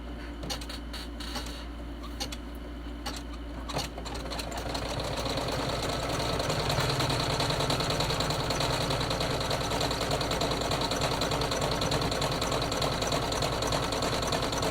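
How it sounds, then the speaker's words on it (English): An embroidery machine stitches the tack-down for a card holder's backing, starting after a few clicks and settling into a steady, continuous rapid whirring hum that runs close and unbroken to the end. "And now we're going to go ahead and stitch the tack down for the backing."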